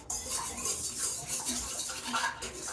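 A yeast mixture being stirred in a bowl, quick irregular scraping and clinking of a utensil against the sides, close and fairly quiet, lasting under three seconds with no talking.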